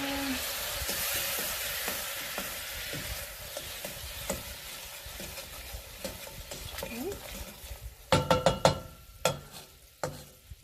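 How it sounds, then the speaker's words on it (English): Caramel sauce stirred in a pan for a pear caramel topping, a steady soft sizzle with scraping strokes throughout, then a few louder sharp clanks of utensil against pan near the end. "Give this a good stir."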